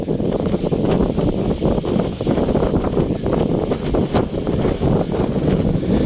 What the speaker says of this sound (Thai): ดูฟังเสียงลมนะครับผมสุดสดชื่นมาก